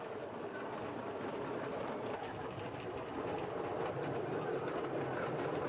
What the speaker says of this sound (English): just a piece of the video concerning the first train, the train ride when Ferrovias had just restored the railroad.